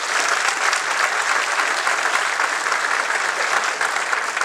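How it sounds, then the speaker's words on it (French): An audience at a mountain music performance in Haute-Savoie applauds a musician, a dense, even wash of clapping that stays loud and steady throughout. "vous pouvez l'applaudir."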